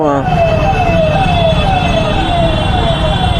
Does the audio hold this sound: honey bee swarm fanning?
no